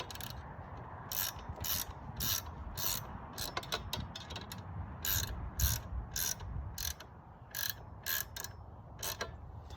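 Bolts being tightened on a steel reactive hostage shooting target: rapid ratcheting clicks in repeated bursts, close and fairly quiet, with short pauses between runs.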